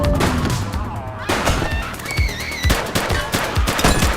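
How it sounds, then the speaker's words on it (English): Repeated gunshots crack out in The Precinct video game, several sharp shots spaced irregularly amid a busy, loud scene with honking and warbling tones layered over them. "Shots fired!"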